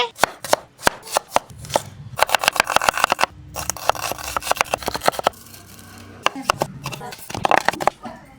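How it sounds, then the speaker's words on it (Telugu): A knife chopping onions and tomatoes on a cutting board while making papad mixture, with sharp rapid taps in quick bursts and short pauses, close and fairly loud, with brief voice in between. "ఎర్రగడ్డ టమాటాలు కోసే"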